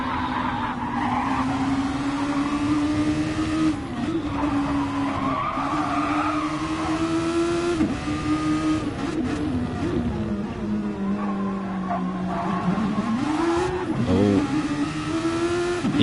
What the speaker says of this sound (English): GP2 engine, mate.